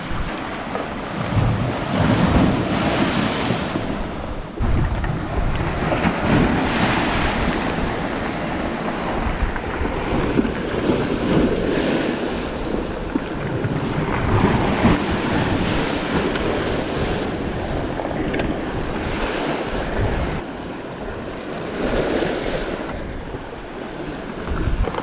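Sea waves crashing at the Seven Sisters cliffs in Sussex: loud, steady surf roar with repeated surges as waves break, heavy wind buffeting the microphone and no voices.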